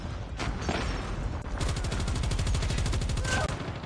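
Hip-fired gunfire in Call of Duty Mobile: a few scattered shots give way to a fast, unbroken automatic burst of evenly spaced rounds, loud and close, lasting over two seconds.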